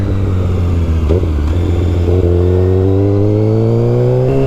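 A Kawasaki Ninja 636 sportbike engine revs up in a strong, steady climb, its tone rising smoothly and loudly throughout with no talking.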